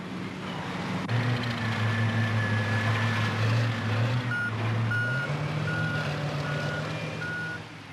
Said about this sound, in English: The trucks hold 40 or 50 tons of rock.